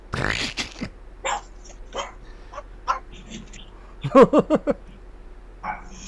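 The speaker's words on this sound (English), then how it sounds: "That's my little tough dog." A small dog yips and whimpers in short bursts, with a cluster of sharp high barks near the middle, close and loud over a quiet room.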